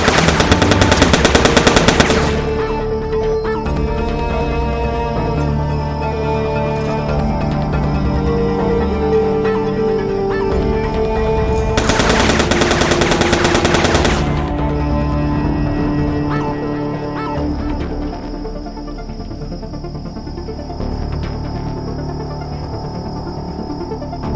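Sustained rapid automatic gunfire from turrets in the video game Foreclosed, loud and continuous, with sharp bursts near the start and again midway over a steady background of game music and effects.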